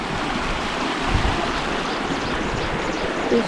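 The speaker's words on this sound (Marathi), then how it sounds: "शांत सुंदर नितळपणे प्रा नितळपणे पाणी वाहत आहे" Clear water flows steadily in a calm rural stream, swirling into small eddies, with a broad, continuous rushing wash heard close and fairly loud.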